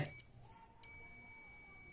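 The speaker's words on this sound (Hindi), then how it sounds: "आपस में मिलाने पर देखिए वीव की आवाज दे रहा है" A multimeter set to its continuity buzzer range gives a steady high-pitched beep when its positive and negative probes are touched together during panel fault finding. The tone starts briefly, pauses for a moment, then holds on close and clear.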